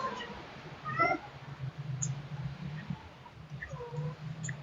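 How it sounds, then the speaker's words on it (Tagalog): Cat meowing several times in short, rising calls spread across a few seconds, fairly faint and close, over a low background hum. "Meow."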